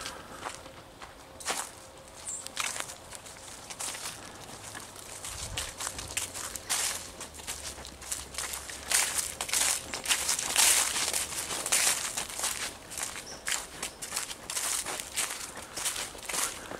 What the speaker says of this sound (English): leaves crumple underneath your feet.